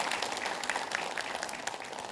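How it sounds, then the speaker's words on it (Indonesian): Audience clapping and applauding at a religious study gathering, a steady dense patter of many hands sustained for a couple of seconds, fairly close and loud. "Tepuk tangan Bu,"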